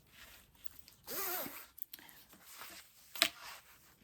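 A zipper pull slides along a continuous zipper in a quick rasping zip lasting about half a second, followed later by a shorter sharp zip. Quiet handling noises fill the gaps.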